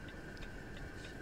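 An electric fan runs steadily nearby, a low constant whir with a thin tonal hum and faint regular ticking on top, quiet and alone.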